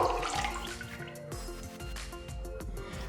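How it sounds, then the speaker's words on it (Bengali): Milk is poured into a hot wok, a close liquid splash and trickle with light dripping and a faint hiss, heard alone without talk. "কড়াটা গরম হয়ে গেছে, এর মধ্যে আমি দুধটা ঢেলে দেব।"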